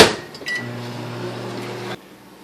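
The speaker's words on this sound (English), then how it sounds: "just pop it in the microwave for another minute or so" A microwave oven runs with a steady low electrical hum while drying a homemade slow match coal extender, starting after a brief rattle and cutting off abruptly about two seconds in.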